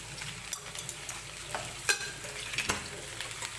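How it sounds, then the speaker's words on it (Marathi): Okra tossed with a spoonful of crushed coconut and garlic in hot oil, a spoon scraping the pan in scattered quiet clicks over a soft steady sizzle, with no talking. "आणि भेंडी व्यवस्थित मिक्स करून घ्यायची आहे"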